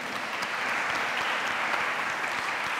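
A debate hall audience claps for the speakers at an IQ2 debate on the nanny state, a dense, steady round of applause that stays level throughout without speech.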